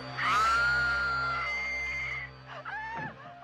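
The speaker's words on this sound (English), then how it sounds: "Laurie screams, second 8." A woman in a horror film lets out a long, loud, high-pitched scream that holds steady, then breaks into shorter strained cries, with low music droning beneath.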